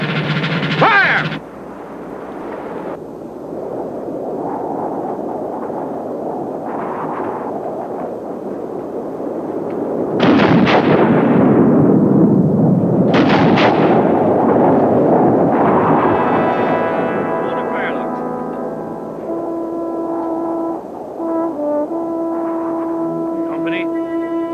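Revolutionary War musket volleys from a 1977 bicentennial film crack out as a couple of loud, booming bursts, the first a sharp ragged blast and a second shortly after, between stretches of rumbling background and shouted voices.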